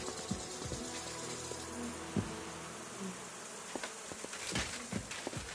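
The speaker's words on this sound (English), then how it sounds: "Those are my bees." A swarm of bees buzzes continuously in the medieval role-playing game Kingdom Come: Deliverance 2, a steady drone with brief sharper bursts and knocks over a busy ambient background, no talking.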